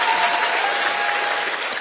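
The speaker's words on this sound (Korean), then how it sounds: "박수 막 쳐주고 그러시면 안 돼요" Dense, steady applause from an audience at a book talk show, continuous across the short stretch with no speech on top.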